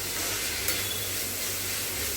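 Garlic and ginger sauté in a pan for mochai masala, giving a steady, even hiss of frying with a faint clink partway through.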